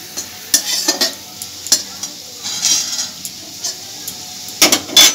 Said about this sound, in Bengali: রসুন আর লঙ্কা এভাবে লাল লাল করে একটু ভালো করে ভেজে নিতে হবে।